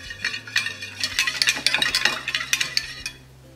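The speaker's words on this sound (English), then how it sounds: "all-purpose flour, sugar, cinnamon, and vanilla extract. And then you just whisk that all together." Flour, sugar, cinnamon and vanilla whisked together in a bowl, giving quick rhythmic clinking strokes of the whisk against the side for about three seconds before stopping.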